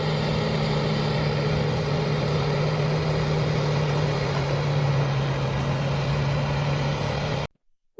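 A massive tracked tractor pulls a specialized planter across a field, its engine giving a loud, steady droning rumble with a constant low hum that cuts off abruptly at the end.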